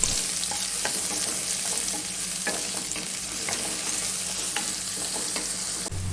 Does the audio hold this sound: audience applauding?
no